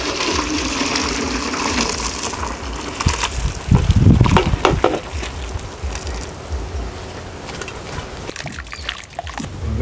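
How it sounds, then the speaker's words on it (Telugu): Boiled water is poured off through a strainer, a loud splashing gush swelling in the middle and easing again over a steady watery background. "ఇప్పుడు తీసి వడకొట్టుకోవాలి."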